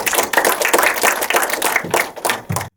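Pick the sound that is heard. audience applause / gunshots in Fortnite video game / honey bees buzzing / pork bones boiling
audience applause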